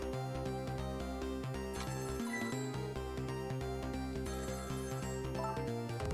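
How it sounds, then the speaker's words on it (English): A telephone ringing in the Ghost Trick video game, its repeating bell-like tones laid over steady game music that fills the whole stretch at a constant level, with no voices. "The phone is ringing."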